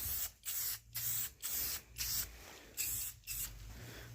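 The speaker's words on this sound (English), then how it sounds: "I'm going to go pretty decent coat of paint on here." Standard aerosol spray paint hissing onto a Coleman lantern during restoration, in seven or eight close, loud bursts of about half a second each, separated by brief pauses.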